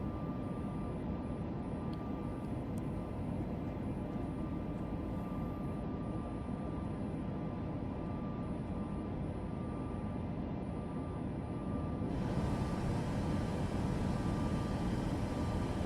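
A Ryanair 737 Max8 takes off in MSFS 2024 with a steady, loud jet engine roar that holds constant and grows slightly fuller near the end, with no voices.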